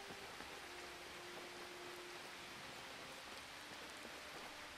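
Rain in the video game Skyrim, a steady even hiss of falling rain with faint droplet ticks, moderately quiet and constant with no talking.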